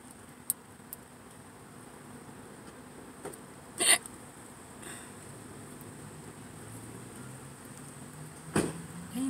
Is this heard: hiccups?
yes